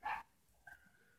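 Dogs barking in the video game Wasteland: one loud bark at the start, then a shorter, fainter yelp or whine trailing off, with no talk over it.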